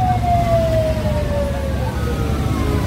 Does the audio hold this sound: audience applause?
no